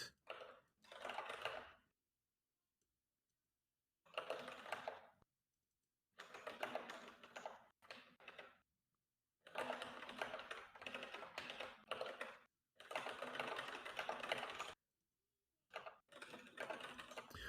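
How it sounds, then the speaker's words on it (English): Clicky keystrokes clatter in bursts of rapid typing separated by short pauses, fairly close and quiet, with no talking. "What kind of keyboard do you use? I hear the clickiness."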